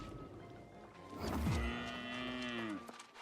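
A cow in the video game New World lets out one long, loud moo that bends downward and fades out, with a faint voice in the background.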